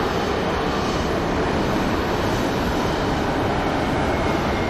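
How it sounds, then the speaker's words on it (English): Jet engines of a UPS Airlines Boeing 767 at an airport, a steady, dense broadband roar holding constant throughout, loud and unbroken with no voices. "767, UPS Airlines Boeing 767 that just showed up"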